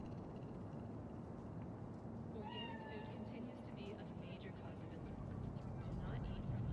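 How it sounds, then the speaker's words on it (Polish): A cat in the video game Cyberpunk 2077 lets out a few faint, thin meows midway through, set low under a steady hum of city background noise. "No co, to tylko kot."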